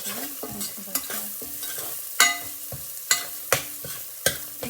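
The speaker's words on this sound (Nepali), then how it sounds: "यसलाई पनि अलिकति चलाएर मिक्स गरेर भुट्नुपर्छ" Cumin and coriander powder frying in a pot of chana dal masala is stirred repeatedly: a series of loud, close spatula scrapes and knocks against the pan over a light sizzle, with no talking.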